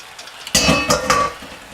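Apple pie filling hits a hot cast iron pan as the apples go back in, a sudden burst of sizzling and scraping followed by a second stir and a short metallic clink, then quiet.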